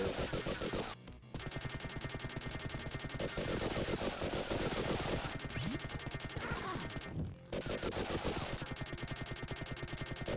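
Rapid bursts of gunfire from the Vectorman video game, fired in a continuous rattling stream for several seconds with two brief breaks, loud and dense over busy game music.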